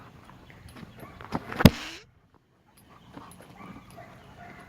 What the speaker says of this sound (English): So the dogs are my main friends